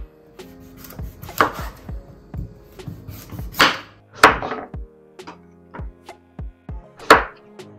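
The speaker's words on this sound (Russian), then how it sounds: "Тыкву мы нарезали, у нас получились вот такие вот кусочки." A knife chops through firm peeled pumpkin in sharp, uneven strokes, each cut landing with a crisp thunk on a board, close and fairly loud.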